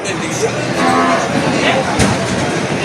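A cow moos in a drawn-out, low call against a noisy outdoor livestock market background in Padre Garcia, Batangas, with some general bustle around.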